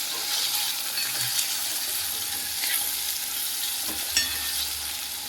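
Tomatoes with a little turmeric roasting over low heat in a pan, giving a steady, continuous sizzle close by with faint scrapes and a small clink near the end.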